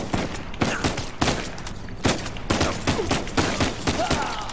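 Rapid gunfire in Uncharted 4 bursts out as repeated loud volleys of shots, steady and dense across the whole stretch, with no talk over it.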